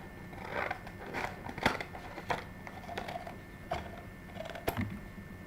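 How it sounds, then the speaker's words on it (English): Scissors snipping doll-making material, a series of crisp, quiet cuts spaced unevenly about a second apart, close but faint over a low background hum, with no talk. "So we will cut this"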